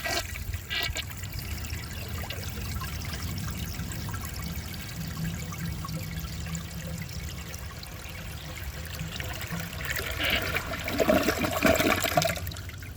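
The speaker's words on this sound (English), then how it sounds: "It did one awesome single flush." A 2002 Kohler Gabrielle toilet with an overfilled tank flushes in one long, steady rush of water that swells to a louder gurgling siphon near the end, heard alone at close range.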